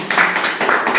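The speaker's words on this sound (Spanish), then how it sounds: "Vamos a darle un fuerte aplauso al Señor" Church congregation applauding for the Lord, a dense burst of many hands clapping in steady waves, loud and close, with no speech over it.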